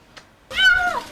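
A female cat lets out one loud drawn-out howl, close and wavering, after a faint brief sound.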